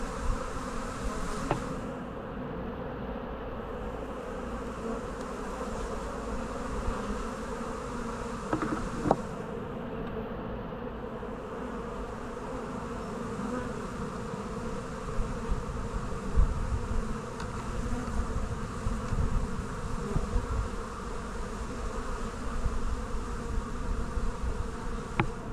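Honey bees drone steadily around an opened hive during a Taranov split, a dense continuous buzz of many insects close by with a few louder passes, no talking.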